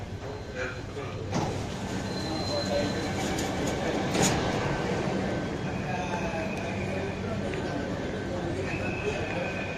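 Mumbai underground metro train on the CSMT to Cuffe Parade line rumbling with rail noise and brief squeals, a station announcement-like voice heard faintly over the steady clatter.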